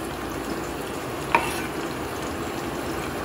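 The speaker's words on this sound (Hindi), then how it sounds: "ऑयल में अब हम डालेंगे प्याज और इन्हें करेंगे फ्राई" Onions sizzle in hot oil for haleem, a dense, even frying hiss up close with one sharp utensil tap partway through.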